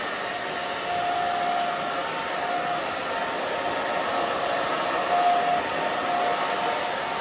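A hair dryer blowing while drying hair, a steady loud whooshing roar held throughout, with slight swells as it moves around the head.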